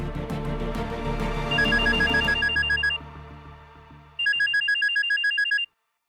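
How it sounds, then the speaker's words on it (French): Telephone ringtone sounding in two electronic bursts with a pause between, loud and close, the first burst over fading background music and the second alone. "Un appel de Ranvir"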